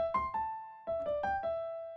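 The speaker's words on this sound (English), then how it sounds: "The lick we're going to play sound like this" Pentatonic scale lick played on a keyboard: a quick run of clear piano-like notes in two short groups with a brief pause between, ringing and sustaining softly without any talk.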